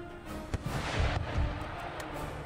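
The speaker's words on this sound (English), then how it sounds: "Cease artillery fire." Artillery in Empire: Total War booms in a steady, rumbling barrage, with deep, distant thuds and sharper reports overlapping into a continuous battlefield roar.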